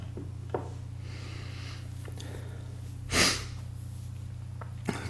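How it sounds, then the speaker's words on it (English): A person with a cold sniffles a few times during a quiet online chess session, one stronger sniff standing out against a steady low background hum. "A bit of sniffles, I do apologise if I sniff."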